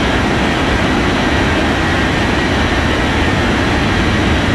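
Aircraft engine noise in an air traffic control video game, a loud, steady broadband roar with a low rumble that holds unchanged throughout.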